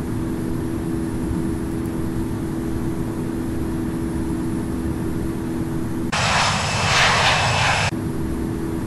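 Steady airliner engine drone in the Infinite Flight simulator game, departing Seattle-Tacoma International on a flight to Portland, a constant tonal hum with a brief burst of brighter rushing noise near the end.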